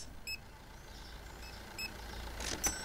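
Faint electronic beeps from the Supermarket Simulator video game recur in short, spaced chirps over a low steady background hum, with a slightly louder burst near the end and no talking.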